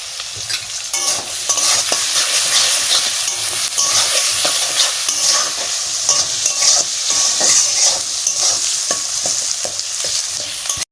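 Beetroot, potato and beans with turmeric and salt fry loudly in a pan, a dense close sizzle broken by repeated scraping and clattering as the vegetables are stirred, with no voices.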